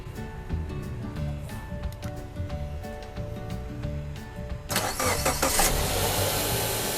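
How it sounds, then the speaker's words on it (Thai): Car engine cranked with a 10000mAh 500A power bank jump starter, a low rattling idle-like rumble giving way to a sudden loud catch and steady running near the end. "ดับแล้วสตาร์ทใหม่ครับ โอเค ครั้งที่สองเริ่ม"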